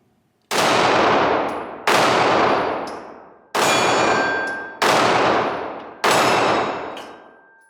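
Five loud, sharp gunshots from a Glock 43X compact 9mm pistol at an outdoor target range, spaced roughly a second or more apart, each with a long ringing decay and a faint metallic ping afterward.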